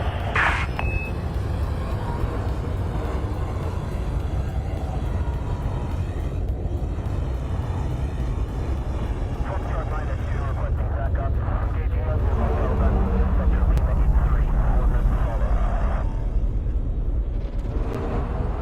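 A spacecraft in a video game sets down on landing pad 30 at an Alliance facility: a steady, loud low rumble runs throughout, with a couple of short beeps near the start.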